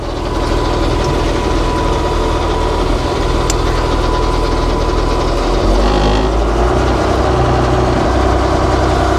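Sawmill equipment engine running after sitting idle through winter, a loud, steady, close idle with a deep throbbing drone and no breaks throughout.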